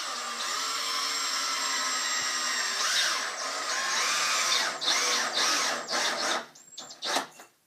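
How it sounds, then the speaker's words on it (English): A drill drives screws into wood, whining loudly and steadily up close, then breaking into short stop-start bursts as each screw seats. "screw it on with 2 screws"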